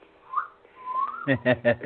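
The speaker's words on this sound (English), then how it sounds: "She's giving you a wolf whistle." A parrot gives a rising, sliding wolf whistle, then a few short, sharp chirping calls close by, fairly loud and clear.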